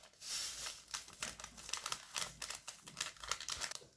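Sachets of vanilla sugar are torn and shaken into cupcake batter, making close, quiet paper crinkling and rustling in irregular bursts.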